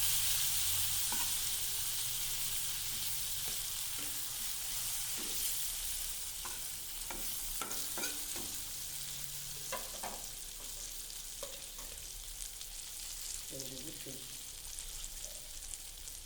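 Cut eggplant frying with spices in oil in a pan as it is gently stirred, a continuous quiet sizzle punctuated by intermittent scraping and clinking of the spoon, close and without talk.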